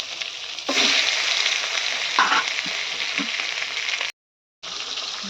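Katla fish fries in hot oil with a steady, loud crackling sizzle close by, a few scrapes of stirring mixed in, broken by a brief cut to silence near the end; no voices.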